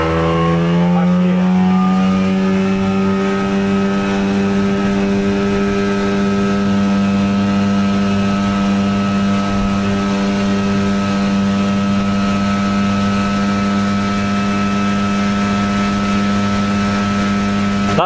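A Kamisu 9.8 outboard motor on a Bronya 320 SK keeled inflatable boat drones steadily and close, a loud continuous buzzing hum whose pitch shifts slightly as the boat picks up speed.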